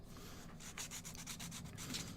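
Sandpaper rubbing on wooden clip parts of a wooden Aviator model kit, a steady close scraping with repeated back-and-forth strokes and no talking.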